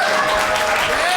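A comedy club audience breaks into dense, loud applause, many hands clapping continuously with crowd noise layered underneath.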